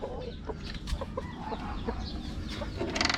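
Rhode Island chickens in cages cluck repeatedly in short, overlapping calls, nearby and fairly loud against a steady farmyard background.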